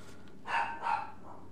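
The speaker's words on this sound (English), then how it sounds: "My dog's barking his head off." A dog barks twice in quick succession at moderate distance, two short tonal woofs inside a quiet room.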